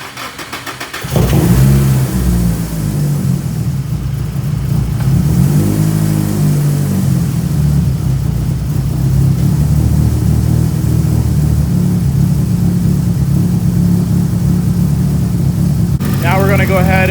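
A car engine cranks and catches, then settles into a loud, steady running drone with rising revs, close by, continuous for most of the stretch with a brief higher whine near the end.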